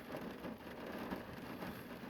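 Steady rain falls outdoors, a continuous soft broadband patter at moderate level, heard alone without any talking.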